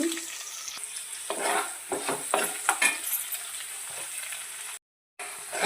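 Mustard seeds, cumin and curry leaves crackle in hot oil in a pan with onion, giving a steady close sizzle broken by sharp pops and scraping stirs, with a short silent gap near the end.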